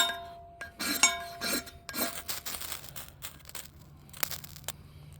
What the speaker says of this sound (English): I was just peeling off some extra magnesium on there to see if I can get a really hot spark down.